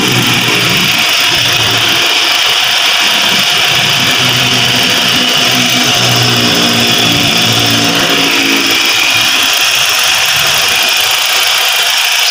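GAC GS3 gasoline car engine running under the open hood during a maintenance check, a loud, close, steady mechanical drone with rhythmic pulsing as it revs and settles, continuous throughout.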